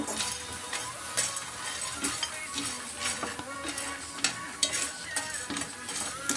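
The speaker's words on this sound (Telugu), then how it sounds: "పల్లి చట్నీకి శనగపప్పు పల్లీలు పచ్చిమిర్చి జీలకర్ర ఇవి వేయించుకోవాలి మంచిగా" Chana dal, peanuts, green chillies and cumin roast in a pan, with a soft sizzle under repeated scraping and clinking of a spatula against metal, close up and without talk.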